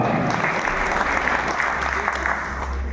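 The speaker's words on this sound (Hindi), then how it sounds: "तो एक बार तालियां बजाना सर के लिए जोरदार" Loud, continuous applause from an audience at a gathering, a thick unbroken roar of many hands with a low hum underneath and a faint murmur of voices.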